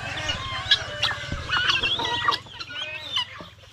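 A farmyard rooster clucks repeatedly in short, busy bursts among other chickens, with a steady low hum underneath and frequent sharp bird calls.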